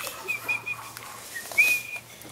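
A person whistles a few short, bright tonal phrases while removing the contents of eggs, quiet and close with faint handling noise between the notes.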